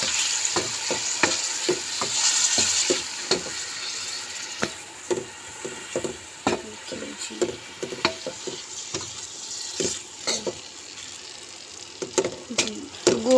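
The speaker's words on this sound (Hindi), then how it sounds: "अब इसको अच्छी तरह हिला लेंगे।" Meat fries with garlic and ginger in a pot under a steady sizzle while a spoon stirs it, scraping and clattering in quick, irregular knocks close by.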